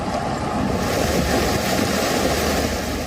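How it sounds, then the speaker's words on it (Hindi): Storm and floodwater in California after heavy rain, heard as a continuous loud roaring rush of water and wind with no breaks throughout. "अमेरिका के कैलिफोर्निया में तूफान और भारी बारिश के बाद बाढ़ के हालात बन गए।"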